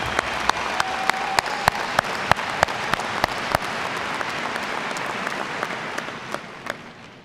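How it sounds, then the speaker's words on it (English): Crowd applause for a graduating high school class at a commencement ceremony, a broad sustained roar of clapping punctuated by sharp, distinct nearby claps, gradually fading toward the end. "That deserves an applause."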